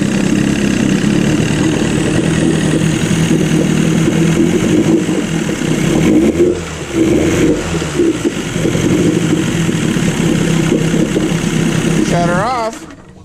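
An Evinrude 20/25 horsepower outboard motor from the 1990s rises from a steady idle to higher revs, loud and close, with a person talking over it.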